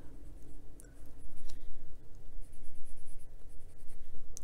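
A large canary yellow colored pencil scratches rhythmically across an adult coloring book page, with close, steady back-and-forth strokes and brief pauses between passes.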